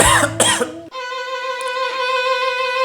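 A woman coughs twice in quick, harsh bursts near the start, followed by a steady sustained tone with clear harmonics for the rest of the clip.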